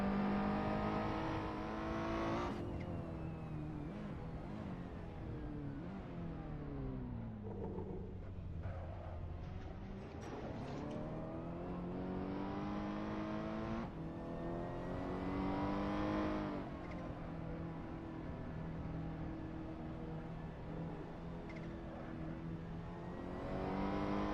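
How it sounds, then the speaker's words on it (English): Several Ferrari GT race cars in a racing game exit the pits onto the Nordschleife, loud engine roars rising and falling through gear changes as other cars pass, continuous and close with no talking. "both of the Ferraris coming out of the pits, meaning that Shiny is leading the field"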